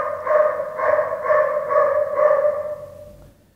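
A dog outside barks in a rhythmic series of about five drawn-out, whining barks, steady and moderately loud, fading at the end.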